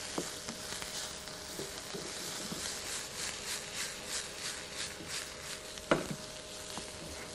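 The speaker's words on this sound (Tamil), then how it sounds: "வெங்காயம் நல்லா வதங்கிக்கிட்டு இருக்கு." Onions sizzle and fry in a pan with curry leaves and ginger about to be added, a steady soft crackling hiss with occasional scraping stirs and one sharper clatter of a utensil.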